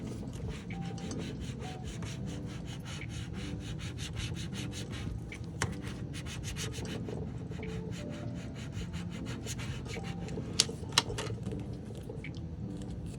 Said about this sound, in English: First, I'm gonna squeegee this.